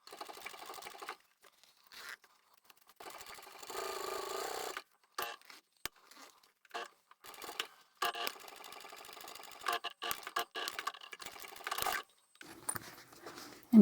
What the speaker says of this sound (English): I'm going to start at the tab end again.